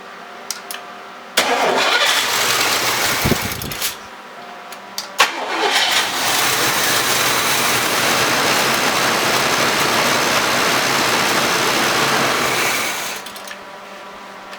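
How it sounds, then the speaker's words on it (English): An old car cranks and fires on carburetor cleaner, the starter whirring briefly before the engine catches into a loud, steady, rough run close by for about ten seconds, then cuts off. "you'll see me actually turn the key, and the carburetor cleaner starts the thing."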